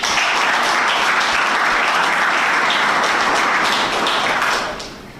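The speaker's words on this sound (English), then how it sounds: "And I think you all deserve a round of applause" An audience applauds pitching competition finalists, a dense, steady wash of many hands clapping that holds loud throughout and then tapers off near the end.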